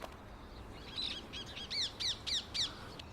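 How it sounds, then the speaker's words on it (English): Ring-necked parakeets in Richmond Park give a rapid series of shrill, squawking calls, several sharp repeated notes rising over quiet open parkland. "the ring-necked parakeet. Originally from India, this invasive bird, believed to have been accidentally released into the wild in the 1950s, can be seen and heard all over Richmond Park"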